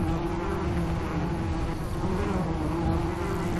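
Dense, continuous buzzing of a swarm of giant bees fills a bee cave in the ARK: Crystal Isles video game, a steady droning hum that holds throughout at a constant level.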